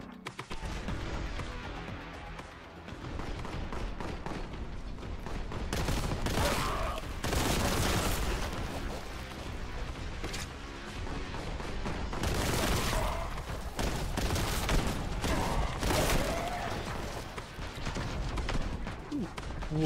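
Sustained heavy gunfire in Warhammer 40,000: Boltgun roars almost continuously for many seconds, dense bursts of loud shots and impacts layered together with only brief dips.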